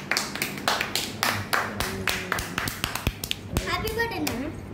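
Hands clap at a child's birthday celebration, a run of sharp close claps in a quick steady rhythm that loosens near the end, while a voice and other voices chatter over them.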